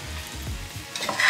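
Chopped raw mango pieces fry lightly in hot oil in a pan while being stirred. A soft, close sizzle builds with a few scrapes toward the end.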